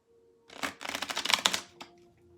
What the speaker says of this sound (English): We're going to go one more quick shuffle on these